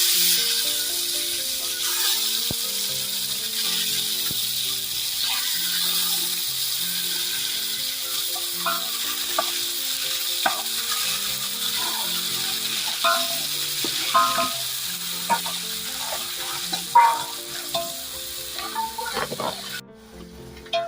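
Curry leaves and spices sizzle and spatter in hot oil while making bhogichi bhaji, a steady loud frying hiss with scattered pops and stirring clinks throughout, close up and without any speech.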